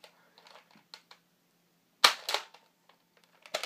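An old Nerf blaster fires with a sharp plasticky snap, followed by quick mechanical clicks and rattles of handling close by, and another snap at the end.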